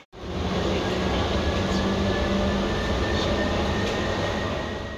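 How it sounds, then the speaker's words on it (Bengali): Ride inside a metro train, a loud steady roar of wheels and motor filling the carriage from start to finish, with faint higher squeals. "তো চলে এসেছি মেট্রোতে, তো চলো মেট্রো"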